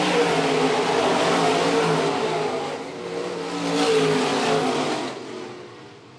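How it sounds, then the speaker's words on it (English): IMCA stock cars race around a raceway, their engines roaring and revving in a continuous, loud drone that swells and fades as they pass. "Laps quickly winding down here for your IMCA stock cars."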